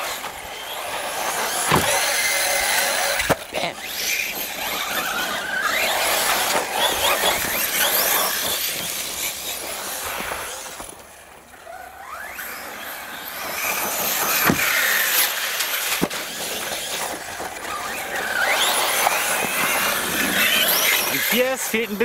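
A Corally Python MT RC monster truck whirs and revs as it drives through mud behind another RC truck, its electric motor noise rising and falling steadily throughout, with people talking over it.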